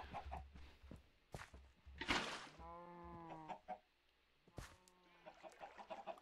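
Minecraft chickens cluck in a few short bursts among other farm-animal noises, with soft footstep-like taps, moderately close and without talk.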